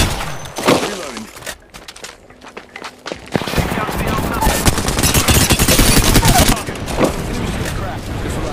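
Rapid machine-gun fire in Apex Legends, loud sustained bursts with shattering impacts, following scattered shots and footsteps, a voice talking over parts of it.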